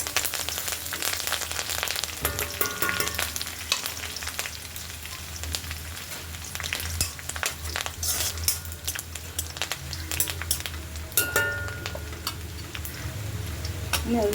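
Curry leaves fry in hot oil in a pan, a close, steady crackle and sizzle with sharp pops and occasional clinks of a spoon stirring throughout.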